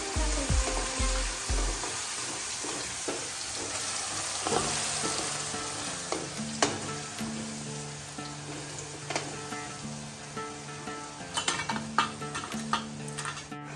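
Ginger-garlic paste sizzling in hot oil with cumin seeds and asafoetida, a steady loud frying hiss with spoon scrapes and clinks against the pan throughout, a few sharper sputters near the end.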